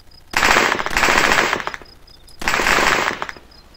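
Automatic gunfire in the military video game Arma, two long rapid bursts of close, loud shots separated by a short pause, with faint electronic beeps in the background.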